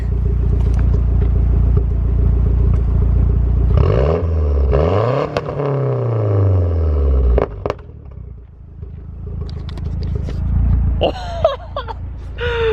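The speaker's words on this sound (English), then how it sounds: "here's the first rev. I'm not gonna rev it up crazy high." A Mazdaspeed 6 engine with a new downpipe idles with a loud low rumble, then revs up in two rising and falling sweeps before settling back, close by, with brief pops and a voice near the end.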